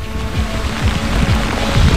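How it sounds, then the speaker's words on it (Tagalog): Strong typhoon wind and heavy rain lash Santiago, Isabela, a loud blustery roar with low rumbling gusts buffeting close by, no talking heard. "nanatiling napakalakas ng hangin at ulan dito sa ating kinatatayuan sa Santiago, Isabela"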